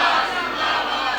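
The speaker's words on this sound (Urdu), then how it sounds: "اچھا نعرے لگائیے گا" A large crowd at a religious gathering in Hafizabad chants a slogan in unison, a loud, sustained roar of many voices.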